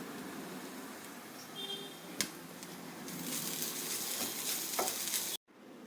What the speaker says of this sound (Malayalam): തേങ്ങ വറക്കുമ്പോൾ ഇങ്ങനെ ചുവന്നിരിക്കണം